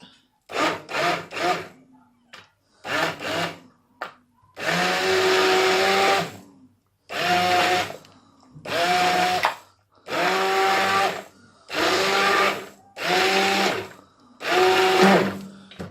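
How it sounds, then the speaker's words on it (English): Loud motorized whirring from a hand blender blending soup, running in repeated bursts with short pauses between, each burst steady and close. "Got a hand blender."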